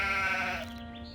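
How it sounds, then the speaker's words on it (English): A single drawn-out sheep bleat from the video game Gothic II, loud and close, wavering then fading into a low steady hum. "So the sheep are very annoying because they are quite slow"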